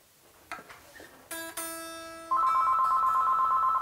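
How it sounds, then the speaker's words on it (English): A telephone rings several times in a room, a bright electronic ringtone that ends in a long steady tone, with a few knocks and clicks before it and no talking. "The phone is ringing."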